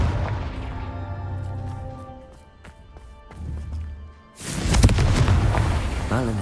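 A fiery blasting spell in Hogwarts Legacy: after a quieter stretch of fading tones and small clicks, a sudden loud, close explosion bursts out and roars on as a broad, rumbling blast.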